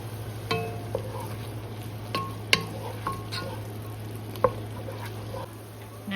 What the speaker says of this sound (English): while I cook up this meat and onion